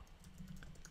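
Quiet, rapid typing on a computer keyboard while a Docker command line is entered, with a steady patter of soft key clicks and no voices.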